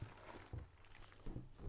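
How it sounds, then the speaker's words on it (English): Plastic packaging bags are pulled out of a self-watering planter, giving quiet crinkling rustles in a few short bursts. "let's go ahead and take out these packaging plastic bags"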